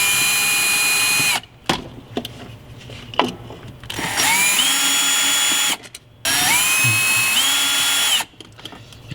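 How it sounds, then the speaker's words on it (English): Handheld cordless drill backing out the four screws from the back of a plain black auto start key box for a Sprinter van remote start, with loud whirring bursts that rise in pitch, separated by short pauses. "You can see I've got great accuracy with a drill"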